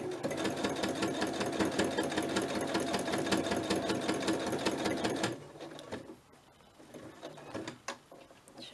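Sewing machine stitching steadily and fairly close for about five seconds with a fast even needle rhythm, then stopping, leaving faint handling noises.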